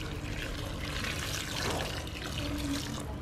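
Warm water pours and trickles steadily while smoked pork is washed in a home kitchen, a continuous close splashing stream lasting a few seconds with no talk.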